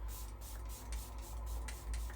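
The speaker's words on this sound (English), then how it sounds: "I'm actually going to spray my face again" A hydrating face mist is sprayed onto the face in a series of quick, close hissing spritzes, several bursts in a row with brief gaps between them.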